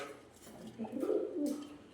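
A pigeon coos softly at close range, a short rolling coo rising and falling over about a second in a quiet room, with no talking.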